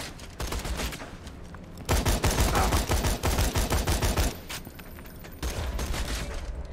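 Rapid burst-fire gunfire from a gun in the video game Borderlands 2 rattles in dense, loud volleys, with a heavier, sustained stretch in the middle and lighter bursts before and after.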